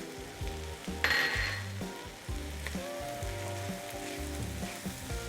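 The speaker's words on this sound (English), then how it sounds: "Give this a good stir." A pan mixture of black beans, cumin, salt, pepper and chorizo sizzles loudly while being stirred. The steady frying hiss comes with scraping and a clear utensil clink near the start, and no one speaks.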